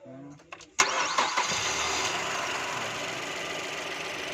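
A Mazda car engine is cranked and fires up after a brief spoken exchange, then settles into a steady, close idle that runs on evenly to the end.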